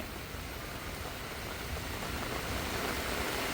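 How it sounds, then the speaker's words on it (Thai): Rain pours down at home in an unbroken, close wash of hissing patter, slightly building in strength toward the end, with no talking. "สุดท้ายกับฝนตกจริง ๆ"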